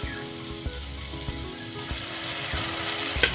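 Boiled chana dal going into a hot frying tempering sets off a steady, even sizzle, with a few faint clinks of a utensil against the pan.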